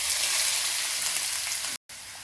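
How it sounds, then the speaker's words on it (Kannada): Chopped onions frying in hot coconut oil in a pan, a steady, loud, bright sizzle that holds evenly throughout, briefly cut by a short gap near the end, with no voices. "ಇವಾಗ ಇದಕ್ಕೆ ಚಿಕ್ಕದಾಗಿ ಕಟ್ ಮಾಡ್ಕೊಂಡಿರುವಂಥ 2 ಈರುಳ್ಳಿನ ಹಾಕೊತಾ ಇದ್ದೀನಿ"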